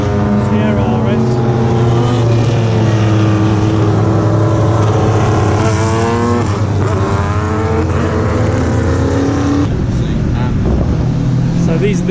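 Several under-2-litre touring race cars, including a Ford Sierra RS, roar past one after another at Spa, engines rising and falling in pitch, with wind buffeting the microphone and people talking underneath.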